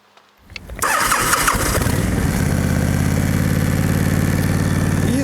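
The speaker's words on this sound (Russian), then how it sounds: "Включаем зажигание, вытягиваем подсос," A Honda VTX1300 cruiser motorcycle engine cranks briefly and catches, then settles into a loud, steady, throbbing idle that continues throughout with no talking.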